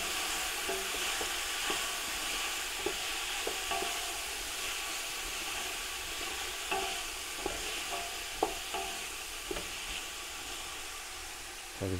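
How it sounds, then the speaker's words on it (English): A vegetable stew with celeriac and bay leaf is stirred in a pot for a traditional Bulgarian dish, with a steady background sizzle and scattered clicks and scrapes of the spoon against the pot, without speech. "so we just give this a good mix through"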